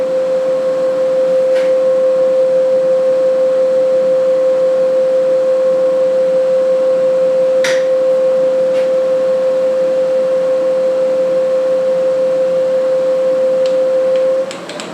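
A lathe fitted with a carbide tool runs at 1200 RPM, giving a steady, piercing single-pitch whine that stays constant almost to the end, broken only by a few faint clicks, and then drops away.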